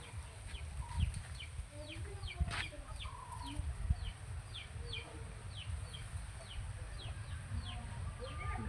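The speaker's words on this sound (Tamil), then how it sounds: "சும்மா ரெண்டு மூணு கோழி வச்சுக்கிறீங்க" A few backyard chickens kept at a rural home with a garden and wells cluck in short, repeated calls over a steady low rumble of outdoor noise, with no talking.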